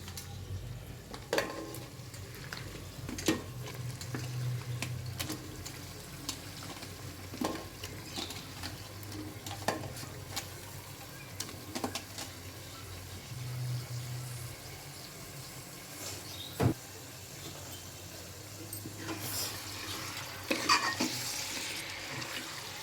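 Mutton fries in oil and is stirred in a pan, with a soft, steady sizzle broken by frequent metallic scrapes and clinks of the spoon.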